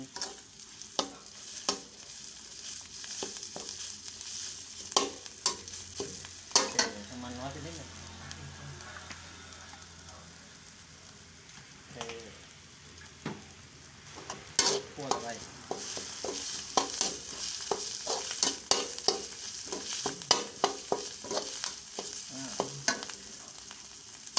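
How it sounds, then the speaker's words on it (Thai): Minced pork larb dry-roasting in a pan in the Kamphaeng Phet style, giving a constant close sizzle broken by frequent scraping strokes of a spatula, with no talking. "คั่วให้หอมนิดนึง"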